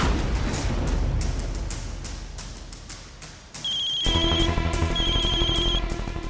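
A loud electronic ringing starts partway through, a repeating trilling tone in bursts, following a stretch of rattling noise.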